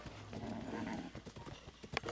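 Horse hooves in the Zelda: Breath of the Wild video game clop in a steady, moderately loud rhythm along a path, with no talking over them.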